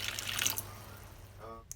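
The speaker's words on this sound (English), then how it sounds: "I'm just adding a little bit of water and then stir up the chicken" Water pours into a bowl holding seasoned chicken in a short splashing rush that fades into a faint trickle, close and fairly quiet.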